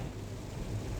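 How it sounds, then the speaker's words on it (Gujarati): Heavy rain pours down outside a car during a family road trip, a dense steady roar drumming without a break. "બહુ જ જોરદાર વરસાદ પડી રહ્યો છે બહાર."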